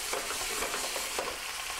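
Canned black olives and capers sauté in a pan for an Italian dish, making a soft, steady sizzle with faint stirring movement over a short stretch and no speech.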